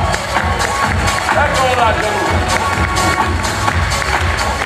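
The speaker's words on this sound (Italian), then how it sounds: "Facciamo un applauso alla regia, al mio fonico di Lucera, Gianluca!" An audience at a live comedy show in Winterthur, Switzerland, applauding and cheering for the sound engineer: a loud, sustained wash of clapping and crowd noise, with someone speaking over it.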